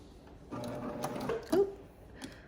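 A serger sewing machine runs in short bursts while it stitches the seams of leggings closed, giving a steady mechanical whir with small clicks and a brief squeak. The sound is close and moderately quiet, with no talking.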